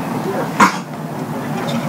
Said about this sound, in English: my brother just coughed really loud.